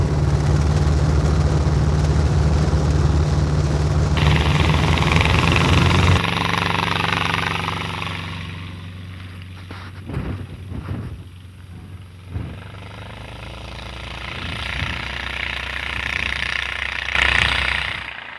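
The engine of an ultralight airplane on a skiway at a small airport drones loudly and close, then changes pitch and dips as the plane taxis for takeoff, with wind buffeting at times.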